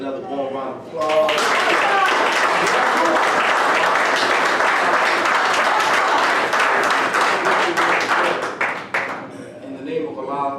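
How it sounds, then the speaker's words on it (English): Warm, sustained applause from an audience at a lecture, starting abruptly after a second and holding dense and loud for about eight seconds before trailing off into scattered claps. "another warm round of applause"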